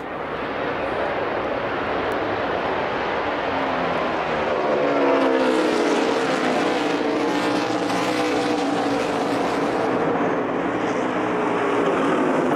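NASCAR stock cars race at Watkins Glen during the 2014 Cheez-It 355, a loud, continuous roar of several engines that swells and shifts in pitch as the pack passes close by.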